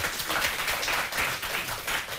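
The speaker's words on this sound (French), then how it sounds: "On l'applaudit, s'il vous plaît." Studio audience applause on the French quiz show Questions pour un champion, a steady, dense wash of many hands clapping that holds evenly throughout without voices over it.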